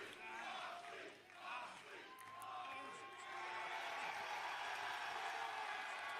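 A hometown wrestling arena crowd in Cincinnati at an AEW Collision show roars and cheers continuously, a dense, distant wash of voices that swells and stays loud throughout.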